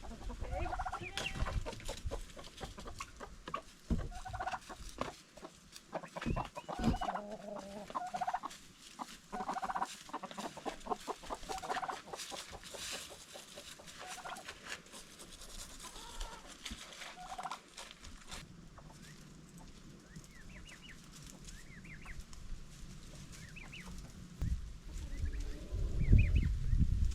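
Chickens in a greenhouse coop cluck and squawk in scattered bursts, close and fairly loud at first, then grow quieter and sparser, with some low rustling and handling noise in between.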